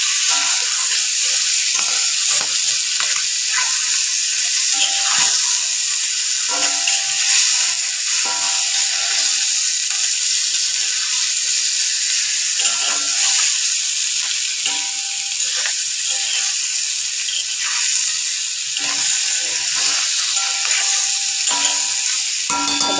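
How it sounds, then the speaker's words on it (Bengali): Dried gagla fish with turmeric fries in a pan, giving a continuous bright sizzle with scattered pops and crackles throughout, close up and alone without speech. "এবার একটু ভেজে নেব।"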